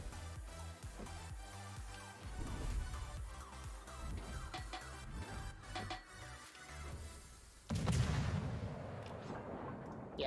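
Ship guns firing in World of Warships from a Tier VIII American destroyer, USS Kidd, with repeated sharp shots and rumbling blasts over ongoing game noise and a louder burst near the end, with no speech.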